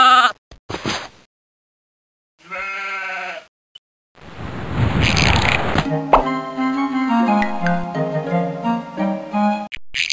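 Sheep bleating on a farm around shearing time, several loud, close calls with pauses between them, plus a broad rustling burst partway through.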